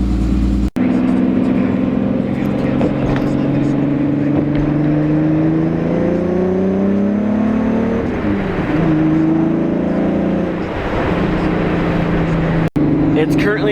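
Car engine running and revving on a cool day, a loud close drone with rising and falling pitch sweeps as the throttle is blipped, with two sharp clicks near the start and end.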